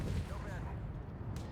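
Tank cannon fire in World of Tanks comes as a dull, rumbling low boom that fills the moment, with a faint voice underneath.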